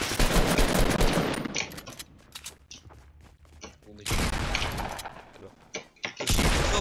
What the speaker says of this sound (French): J'ai mis trop balles de shotgun.